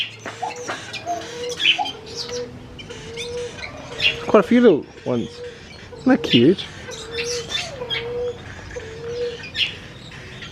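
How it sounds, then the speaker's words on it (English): Small birds chirp and tweet while doves coo inside a Dreamworld aviary, several calls overlapping nearby, with a person talking over the birdsong. "See all the different sorts of birds in here."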